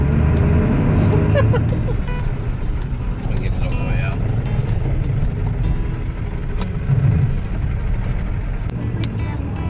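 A Buick wagon fitted with Dodger 392 mufflers rumbles steadily as it drives, a continuous low exhaust drone filling the whole stretch while people talk and laugh over it.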